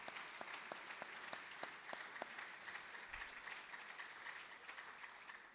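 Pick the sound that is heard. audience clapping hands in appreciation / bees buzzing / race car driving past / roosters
audience clapping hands in appreciation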